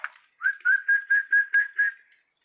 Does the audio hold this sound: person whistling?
yes